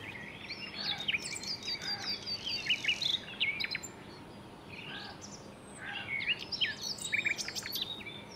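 Forest birds sing in bright, high chirping phrases and trills, several bursts spread across the stretch with short pauses, moderately near, over a faint steady background hiss with a light insect murmur.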